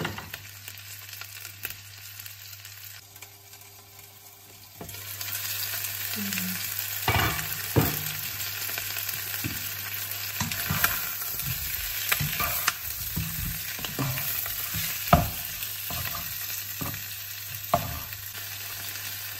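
Chicken wings brown in a hot pan, a steady loud sizzle and crackle that starts after a quiet opening and continues throughout with occasional stirring scrapes.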